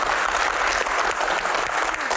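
Brief, loud burst of studio audience clapping, dense and even throughout without any talk.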